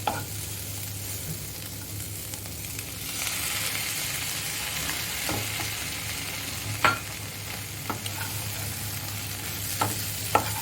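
Chickpeas and beans frying in a pan, a steady soft sizzle with occasional scrapes and clicks of a spoon stirring, close and fairly quiet, with no talking.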